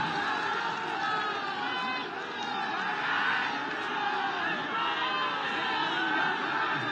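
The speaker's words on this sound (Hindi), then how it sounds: "ताली बजा के स्वागत करेंगे, अभिनंदन करेंगे।" A large crowd at a political rally welcomes former chief minister Yogi Adityanath, a dense, steady wash of clapping and cheering voices that stays loud and even throughout, with scattered shouts above it.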